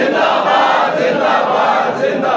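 A large crowd at a TLP election rally chants the slogan Tajdar-e-Khatm-e-Nabuwwat in unison, a loud, roaring mass of voices sustained throughout.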